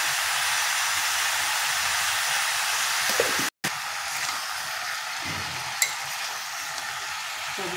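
Chopped tomatoes and salt fry in a pan with a steady, close sizzling hiss that cuts out for a moment midway, then resumes with faint scraping from stirring.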